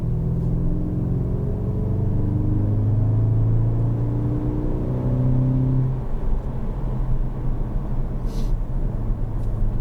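A 2016 Skoda Octavia vRS engine pulls hard in third gear from inside the cabin, its drone rising steadily in pitch for about six seconds before easing into a steady low road rumble.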